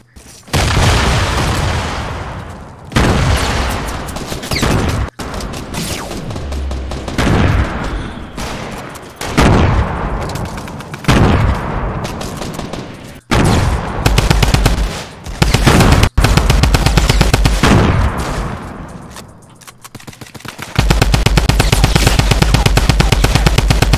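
Gunfire in Fortnite Battle Royale, loud and close, with long sustained automatic bursts and heavy booming shots broken by short pauses across a hectic firefight.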